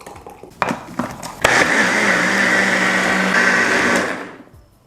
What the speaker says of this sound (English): I'm gonna pour my sauce into my blender